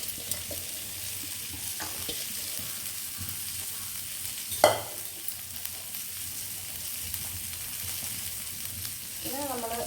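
Chopped broad beans stir-frying with turmeric in a pan make a soft steady sizzle, with a stirring scrape and a brief clatter near the middle, fairly quiet throughout.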